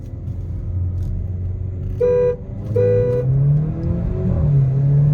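A Volkswagen Vento and Polo GT TSI run hard in a drag race, a loud engine roar climbing as they accelerate, broken by two short horn toots and rising whine from gear changes.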